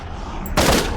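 A single powerful gunshot fired in a wave-based shooter game against Beholder-like enemies, a sharp broadband blast with a lingering noisy tail, loud and close after a short quiet lead-in.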